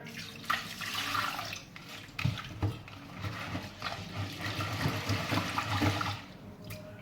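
Water runs and splashes steadily onto rice in a pot for several seconds, a continuous close-up pouring and sloshing with a few louder gushes, no voices.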